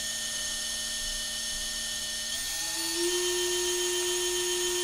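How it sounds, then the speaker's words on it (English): Brushless drone motors without propellers spin up, giving a steady high-pitched electric whine that rises in pitch partway through as the speed increases, loud and close with no talking. "I will start spinning the motors."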